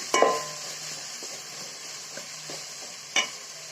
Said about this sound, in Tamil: அதையும் போட்டு கிண்டிக்கலாம். தக்காளி லைட்டாக வதங்கட்டும்.